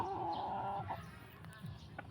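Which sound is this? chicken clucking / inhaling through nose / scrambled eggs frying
chicken clucking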